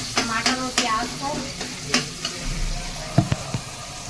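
Hot oil sizzles in a pan with a dal tadka of tomato and onion while a spoon scrapes and stirs in sharp, irregular strokes close by.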